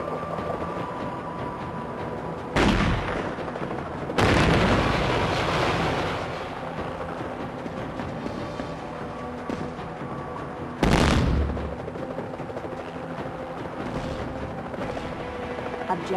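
Gunfire from the Fantastic Four PlayStation 2 game: a few loud, sudden blasts that start abruptly and fade out over several seconds, set against a steady hum of game ambience.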